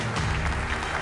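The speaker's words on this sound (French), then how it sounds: "Sous vos applaudissements, s'il vous plaît" Brief burst of audience applause at the Algerian Golden Ball 2017 award ceremony, a dense, close roar of clapping over one second.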